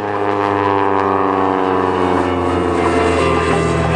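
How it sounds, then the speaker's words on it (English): A Skybolt biplane in aerobatic flight at an airshow, its steady engine drone mixed with a continuous whistle of air through the bracing wires between the wings, loud and sustained without pause. "Oh, and you hear the air between the wings of those wires."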